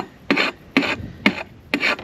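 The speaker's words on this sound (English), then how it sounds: "I'll just file off the edges" A hand file rasps the edges of a freshly drilled hole during an offroad camper trailer awning modification: four short, evenly spaced scraping strokes, close and crisp, with quiet gaps between them and no speech.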